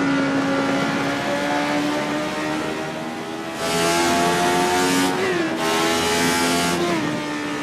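A go-kart engine drives up Pikes Peak, its loud buzzing whine holding steady before climbing in pitch with each gear shift, made without the clutch and running with turbo, close and unbroken throughout.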